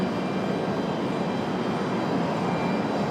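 Broad, steady jet roar of a Delta airliner departing Raleigh-Durham International for Detroit, filling the whole clip at a constant, fairly loud level with no talk.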